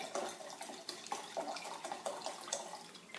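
Sparkling mineral water pours steadily into lemonade with a continuous splashing, fizzing trickle close by, rising and falling slightly in strength throughout.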